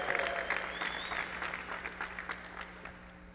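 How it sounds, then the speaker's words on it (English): A conference audience gives a brief, light round of applause, scattered claps fading over a few seconds. "If you're a Voxer person, give a round of applause."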